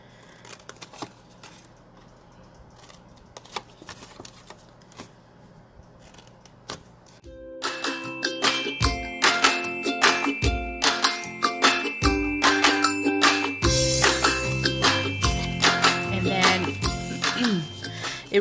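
Scissors snip paper squares in a home crafting session, first as faint sparse clicks, then as loud, dense, close cutting and rustling with overlapping metallic snips.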